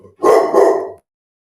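A dog gives a single loud, close bark, a short doubled burst lasting under a second before silence.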